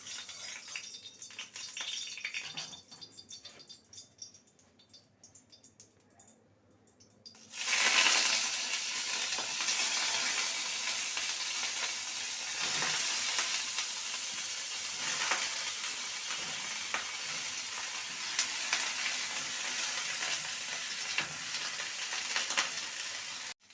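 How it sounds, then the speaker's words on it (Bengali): Cauliflower florets drop into hot mustard oil, bursting into a loud, steady broadband sizzle after a quieter opening, with occasional stirring scrapes through the frying. "আমি রান্নাটা সর্ষের তেল দিয়ে করছি আপনারা চাইলে পুরো ঘি দিয়েও করতে পারেন তেলটাকে গরম হয়ে গেলে ফুলকপিগুলোকে সামান্য ভেজে নেবে"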